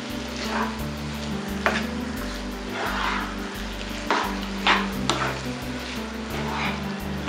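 Minced mutton keema frying in a pan for Koli-style kheema, stirred with scraping spoon strokes over a low steady sizzle and a constant low hum, close and moderately quiet, no speech.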